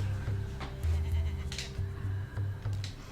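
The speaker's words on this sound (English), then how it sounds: "So now we're just gonna make this sheep run over here" Sheep in the video game Tak and the Power of Juju bleat repeatedly in short, loud, wavering calls, several in a row over a steady low game hum.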